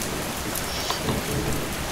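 Heavy rain pours over a stormy sea with thunder rumbling, a dense continuous hiss of downpour filling the scene, with no voices.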